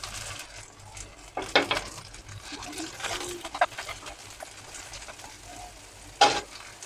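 Green chili, carrot and tomato fry in a pan of lightly fried onion, giving a steady low sizzle with a few sharp stirring scrapes and clatters against the pan.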